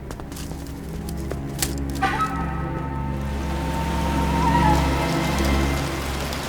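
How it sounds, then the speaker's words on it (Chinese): Steady rain patters over a constant low background hum, with a few brief tones rising faintly partway through. "这天下雨了"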